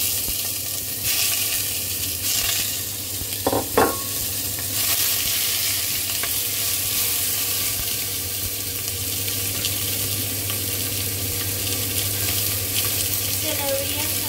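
Chicken broth with vegetables boils in a pot for Hainanese chicken rice, a steady bubbling, sizzling wash that holds at an even level throughout, with a couple of brief clinks near the start.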